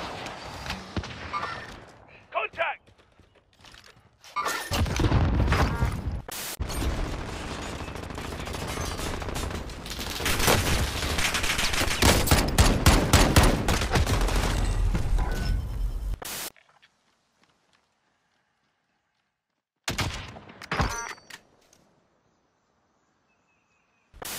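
Gunfire in the online shooter game Warzone, with dense bursts of automatic fire and shots lasting several seconds, loud and close, and brief quieter stretches between them along with game sounds.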